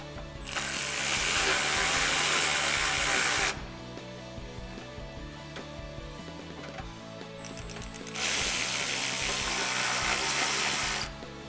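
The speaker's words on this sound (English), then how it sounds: "we're going to use a 13mm socket to disconnect the clamp from the catalytic converter" A 13mm socket ratchet clicks in two long, fast, loud bursts with a pause between, loosening a rusty exhaust clamp at the catalytic converter on a Jeep Wrangler TJ.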